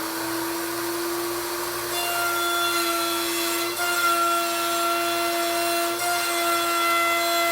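A router bit cleans out a dovetail slot in a wooden workpiece on a shop-built jointing sled, giving a loud, steady high-pitched whine with a constant cutting hiss throughout, sharpening slightly partway as the bit bites deeper.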